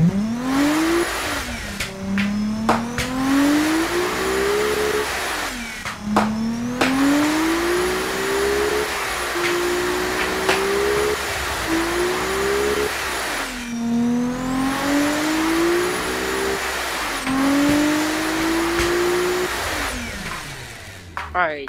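A 3.5-liter V6 car engine revs repeatedly in a driving game, its pitch climbing and falling in rising sweeps, with voices talking intermittently over the steady mechanical drone.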